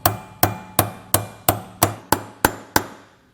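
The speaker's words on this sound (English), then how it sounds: "I'm just going to use a hammer to tap those up into place." Nine sharp, even hammer strikes tap steel side step brackets into place on a 2020 Toyota Tacoma, each a close metallic clang with a short ringing decay and no voices.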